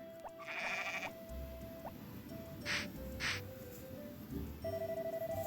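Two short bleats from a sheep in the farming video game Harvest Moon: Back to Nature, each a brief electronic cry, set over a steady looping game background with chime-like tones.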